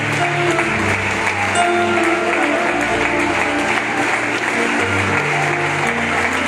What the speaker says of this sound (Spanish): le damos ese fuerte aplauso al Señor